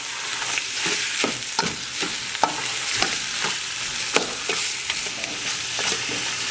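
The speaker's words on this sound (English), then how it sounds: "put in your meat. Okay, put the meat." Rib meat for a Khmer curry sizzles and fries in a pot while being stirred. A steady, loud sizzle runs throughout, with frequent scraping stirs of a utensil against the pot. Nobody speaks.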